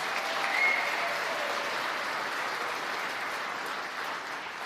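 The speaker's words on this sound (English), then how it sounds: "Let's give him a round of applause." A large audience at a political speech event in Michigan gives sustained, dense applause, a steady wash of clapping that holds loud and even before easing slightly at the end.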